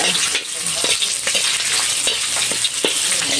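Onions and spices sauté in a hot pan with a steady, close hiss of oil, broken by scattered clicks and scrapes from stirring throughout.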